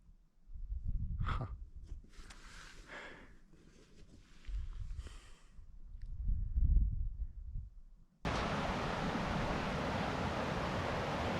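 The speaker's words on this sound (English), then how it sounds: "A beautiful rapid river." A rapid river rushes along the Colorado Trail as a hiker descends. Breathy wind and footsteps come first, then the water's steady, full roar cuts in loud and close.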